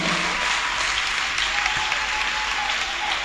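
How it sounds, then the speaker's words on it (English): A church congregation claps their hands in a steady, dense wash of applause that stays loud and even from start to finish, with no voices rising above it. "Somebody clap their hand now."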